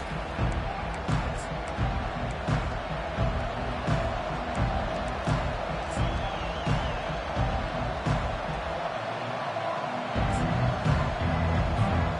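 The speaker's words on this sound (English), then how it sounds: "this crowd is fired up. Listen to this noise here." A football stadium crowd at a Wolverines college game keeps up a loud, dense, continuous roar of cheering and noise with a distant, echoing wash, no single voice standing out.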